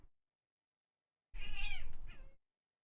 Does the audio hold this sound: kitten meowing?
yes